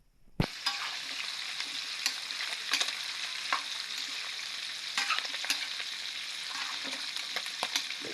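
Food sizzling steadily in a frying pan while being stirred, with scraping and clanking strokes scattered through the constant frying hiss, close up and without talk.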